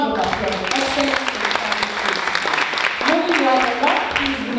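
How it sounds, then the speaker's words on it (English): An audience applauds award-winning teachers at a Johannesburg Central and South districts national teaching awards ceremony, a steady wash of clapping lasting throughout, mixed with overlapping voices and background music. "Please give them a round of applause."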